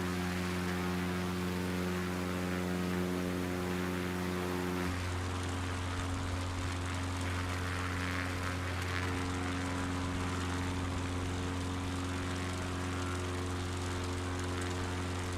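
A Piper Cub's propeller engine drones steadily in flight, a loud continuous hum with strong harmonics that shifts pitch partway through and then holds a steady tone.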